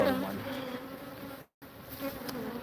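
Honey bees buzz around an open hive at an outlying apiary yard, a close, steady drone with a brief cut of silence partway through.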